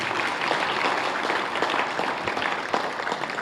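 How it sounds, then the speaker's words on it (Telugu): Applause from a seated audience at a playlet staged by a theatre group in Khammam, Telangana, a fairly quiet, even patter of clapping lasting a few seconds without voices. "లలిత గారికి మోగించండి చప్పట్లు"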